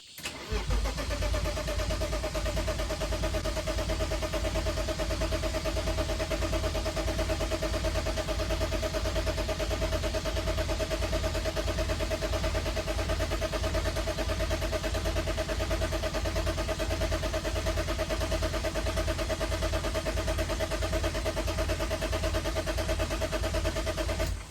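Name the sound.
BMW E36 engine cranking after fuel pump replacement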